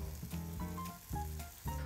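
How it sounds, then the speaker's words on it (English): Fish frying in a hot pan in a professional kitchen, a steady close sizzle running the whole time, with tonal ringing layered over it. "pop this fish in the hot pan. These pans have been hot for a while now. So we're just going to fry that up."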